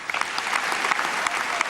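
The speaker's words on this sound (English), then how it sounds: "But for all the applause here" Labour Party conference hall audience applauding, a loud, dense roar of clapping from a large crowd that runs steadily through the short moment.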